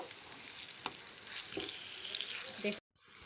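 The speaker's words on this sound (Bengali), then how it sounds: "খুব সাবধানে উল্টে পেল্টে ভেজে নিতে হবে" Pieces of jackfruit shaped like fish sizzle steadily in hot oil, with occasional scrapes and taps from turning them, before the sound cuts off abruptly.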